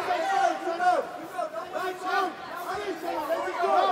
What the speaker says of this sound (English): The crowd here is getting behind their Singaporean and trying to urge him on to victory